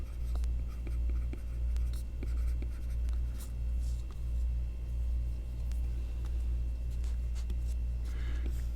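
A stylus scratches and taps in quick irregular strokes on a tablet drawing in Procreate, faint and close over a loud, steady low hum that rises and falls in a regular rhythm.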